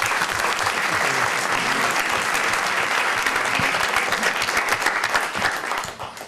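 An audience at a forum on women's achievements and challenges in Lima bursts into sustained, dense applause that holds steady for several seconds, then fades out toward the end.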